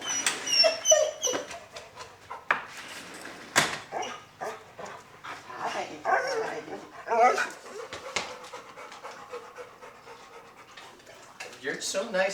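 An excited dog greets someone returning home, panting, whimpering and giving a few short barks among quick scuffling noises while a person talks over it close by.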